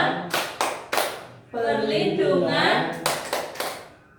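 A group's rhythmic clapping chant about children's rights in an Indonesian family-support class session: sharp handclap bursts in a steady pattern, broken by a stretch of sung or chanted group voices, then more claps.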